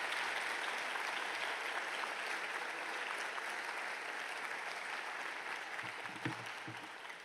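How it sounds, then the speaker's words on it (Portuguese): A hall full of people applauding together at a swearing-in ceremony, dense and sustained from start to finish and fading slightly near the end. "E queria uma salva de palmas para cumprimentar todas estas pessoas em conjunto."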